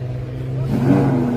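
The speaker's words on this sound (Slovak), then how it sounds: "Ale to Ferrari je nádherné." A Ferrari sports car engine at a Slovak car event for dream cars and legends, running close by as a steady rumbling hum that swells and rises slightly in pitch as it revs.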